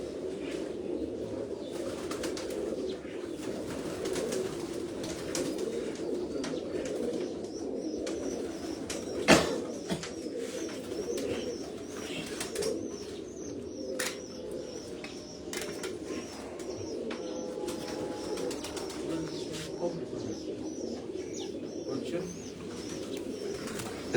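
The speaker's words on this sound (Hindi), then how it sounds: "ये भी बड़ा कबूतर है उम्र का, सियालकोटी कबूतर" A rooftop flock of Sialkoti pigeons keeps up a dense, continuous low cooing, with a sharp knock and a few flutters scattered through, while a voice comes and goes faintly underneath.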